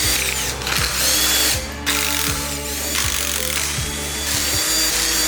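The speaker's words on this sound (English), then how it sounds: "Better remove our valve cover here." Ratchet wrench loosening the valve cover bolts on a twin-turbo BMW engine, close and loud, with repeated bursts of rapid clicking pawl strokes at a steady rhythm and no talking.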